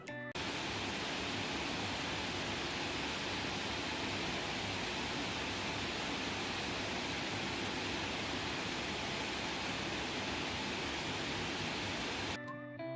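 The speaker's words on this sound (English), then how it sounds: "Now about 5 feet away from my mining farm, the sound is not too bad." Crypto mining farm of GPU rigs in an apartment, heard from about five feet away: a steady, dense broadband whoosh of many cooling fans, constant and unchanging throughout, with no talk.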